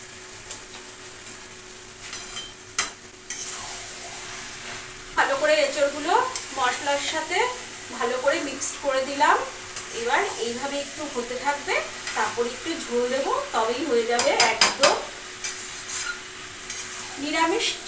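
Boiled jackfruit pieces are stirred into masala frying in oil, giving a soft sizzle. After a quiet start, a spatula scrapes and squeaks rhythmically through the pan in quick strokes, with a few sharp knocks near the end.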